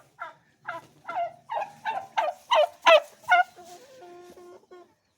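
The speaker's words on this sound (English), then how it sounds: "There's my old turkey girl." Farmyard turkey hen gobbling in a rapid series of about nine rising, rattling calls, fairly close, trailing off into softer clucks at the end with no talk.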